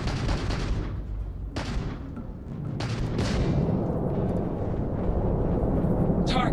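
Heavy, booming gunfire in the Starfield video game, several loud blasts in quick succession blending into a dense, continuous roar of combat.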